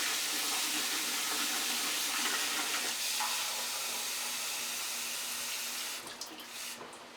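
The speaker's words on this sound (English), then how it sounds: "now you're gonna need some water, warm water, not hot boiling water, but like warm water" Warm water runs steadily from a tap or pours in a continuous rush, then tapers off into splashing near the end.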